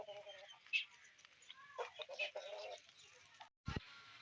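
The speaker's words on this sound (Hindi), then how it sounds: "सिंधी मुर्गा पीछे कोई खेल रहा है और ये सिंधी मुर्गा" A Sindhi rooster in a rural village yard clucks in short, scattered calls at low volume, with brief chirpy notes, background noise and a sudden cut of silence near the end.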